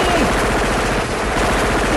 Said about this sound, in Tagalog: nagbabarilan sa labas eh